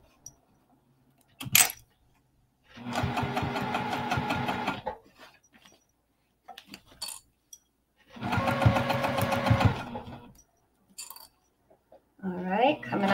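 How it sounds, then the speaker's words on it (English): A sewing machine stitches vinyl or fabric with a pom-pom trim, running in two close, steady bursts of a few seconds each, separated by a pause with a brief voice and light handling noises. "I'm just gonna sew back and forth a couple of times, make sure it's in there."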